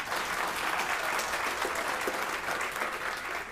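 Audience at a press conference applauding, a dense, even spread of clapping held at a steady level throughout.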